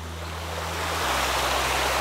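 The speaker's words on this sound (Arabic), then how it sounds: "صوت الشلال هذا سواء انت نايم او داخل الفيلا هذه يعطيك شيء صراحة جميل جدا" Outdoor waterfalls at a villa pour continuously, giving a broad steady rush of running water that swells slightly louder partway through, close and without any talk.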